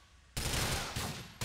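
Loud bursts of rapid gunfire in the video game GTA IV break out after a short quiet moment, a sustained volley followed by another quick burst.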